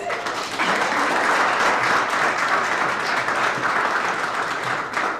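A sustained round of applause from a conference audience at an evening reception and panel, rising quickly after a brief start and holding as a thick, steady crowd clapping until it fades slightly.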